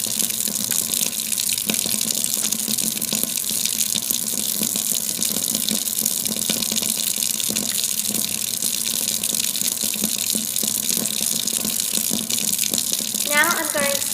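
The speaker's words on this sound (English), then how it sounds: "Now I'm going to use some liquid soap, and I'm going to clean my hands all over for 20 seconds." A running tap gushing steadily into a sink while hands are washed with liquid soap, continuous close water noise throughout with a brief squeak near the end.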